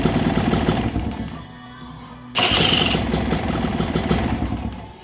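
A 2005 Gas Gas 250cc motorcycle engine turns over, dips briefly, then catches and runs with a loud, steady, rattly two-stroke idle, close by and with no talk over it.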